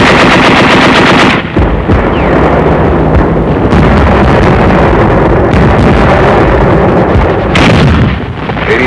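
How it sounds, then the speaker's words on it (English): Heavy gunfire at a WWII beach landing in 1944 archival film: loud, relentless machine-gun bursts mixed with booming artillery and explosions, dense and continuous with brief gaps. "Despite heavy enemy fire, the first wave swarmed ashore with timetable precision."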